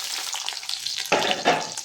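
Onion hits a pan of hot oil with whole cumin seeds, and a moderate sizzle swells into a louder burst of frying partway through, with stirring over a constant close hiss.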